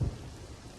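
Steady rain with a low thunder rumble at the start, fading into a continuous wash of rainfall without any voice.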